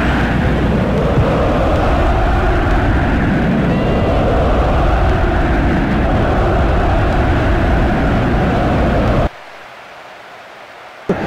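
A stadium crowd in the football game Bomba Patch on PS2 roars continuously and loudly, probably chanting olé, then cuts off abruptly near the end to faint background.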